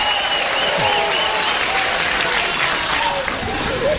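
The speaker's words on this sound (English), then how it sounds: "Let's give a round of applause for everybody here" Comedy club audience in New York applauding loudly and steadily, a dense wash of clapping with some crowd noise running the full length, a voice faintly under it.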